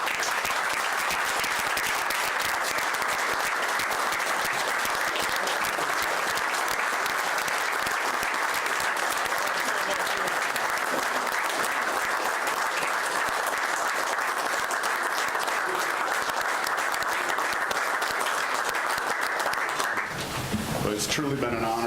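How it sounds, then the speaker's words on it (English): Sustained, dense audience applause fills a city council meeting chamber, steady and even for about twenty seconds before tapering off abruptly at the end. "I would ask the audience to join me in a wonderful round of applause"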